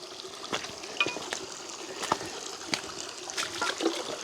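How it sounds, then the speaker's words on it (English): Water flows through a small creek beside an abandoned house in Japan, a close, steady rush and trickle with splashy bursts and gurgles throughout. "it's really a nice flow of water right now."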